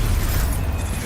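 Bombarda spell explosion in the video game Hogwarts Legacy, a loud, dense low rumbling blast that sustains for about a second without any talk.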